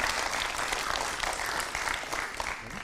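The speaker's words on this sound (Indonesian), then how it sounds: "Tepuk tangan yang meriah sekali lagi untuk Bapak Yandi Sow." A crowd claps loudly and continuously for a presidential candidate after a vision-and-mission speech, a dense steady wash of applause with no voices over it.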